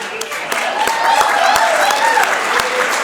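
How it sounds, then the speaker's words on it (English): Applause from a banquet crowd at a chamber of commerce awards dinner, a steady dense clatter of clapping lasting a few seconds with some voices and cheers mixed in. "A round of applause for John"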